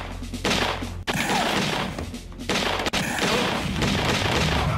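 Gunfire in a Daphne Singe laserdisc arcade game, bursts of booming shots and blasts in two or three loud clusters separated by brief dips, dense and close with no talking.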